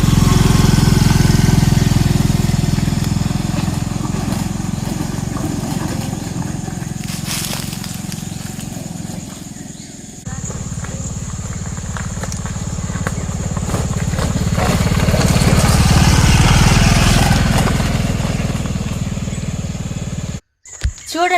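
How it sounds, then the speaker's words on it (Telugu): A scooter ridden along a rough forest road gives a loud, continuous engine drone with rattling and wind rumble; it dips briefly mid-way, then swells again before cutting out abruptly near the end. "నేను ఇదిగో ఈరోజు తీసుకెళ్తున్నా స్కూటీ మీద"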